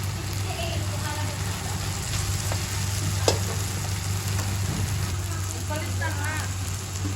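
Fish cooking in a pan of pangat na isda, a steady broadband sizzle and bubbling with faint stirring clinks, continuous and fairly close throughout with a low hum underneath.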